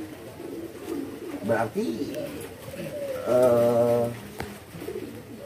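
Spotted dove (tekukur) cooing in a rhythmic series of soft, low, repeated notes, fairly close and clear, with someone speaking before and around the calls.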